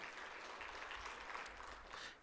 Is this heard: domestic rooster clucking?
no